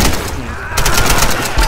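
Gunfire in Tomb Raider, a rapid automatic burst of loud, close shots in a steady rattling rhythm lasting under two seconds.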